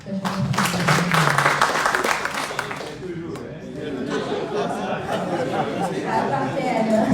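Applause from the audience at a community representation workshop, a steady wash of clapping with overlapping chatter that softens midway and then carries on under murmuring voices.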